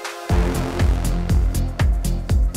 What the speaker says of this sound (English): This time we are gonna make this massive lead sound.